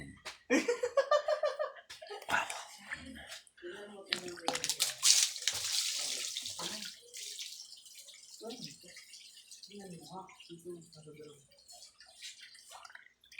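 Water splashing and dripping during an outdoor bath, close and irregular, with a person talking and laughing over it.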